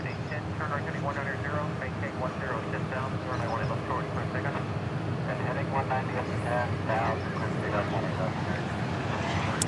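An Airbus A220 airplane moving at DFW Airport, a steady roar of engines heard from some distance, with people talking over it throughout.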